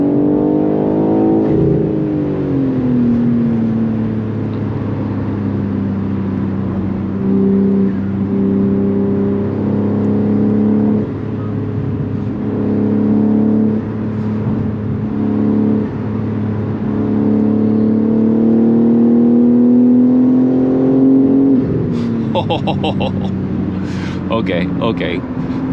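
A BMW M3 droning through a night drive, its engine tone rising steadily under acceleration and holding at a strong cruise, heard from inside the cabin with a brief burst of clicks and talk near the end.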